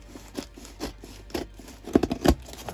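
A blade cuts into a Monster Jam toy package, with scattered snips, rustles and plastic crinkles that grow louder and denser near the end, close by and without speech.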